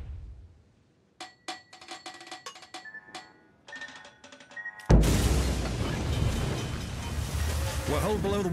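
A torpedo strikes the destroyer Benham below the waterline in a naval battle game, a sudden loud explosion after scattered sharp game sounds, followed by a sustained roaring rumble of water and fire.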